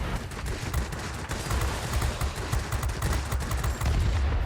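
An F5F fighter's guns firing in World of Warplanes: a fast, steady stream of rattling shots that runs unbroken for several seconds, loud and close, with no voices over it.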